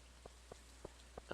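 Rain falls in the Stardew Valley video game as faint, evenly spaced soft patters over a quiet ambient background, with a brief louder burst at the very end.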